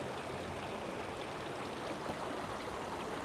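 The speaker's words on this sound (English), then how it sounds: "And this is one of these water features. It just runs off the side there" Water runs steadily off the side of a lit water feature in a garden of pink granite in Aberdeen, Scotland, a constant close rushing splash with no pauses.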